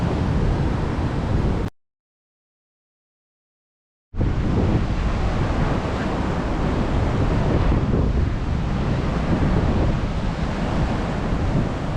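Hurricane Nicole's wind and pounding surf at a damaged seawall in Volusia County, Florida: a loud continuous roar of wind buffeting the microphone over crashing waves, cut by a brief silent gap, no voices.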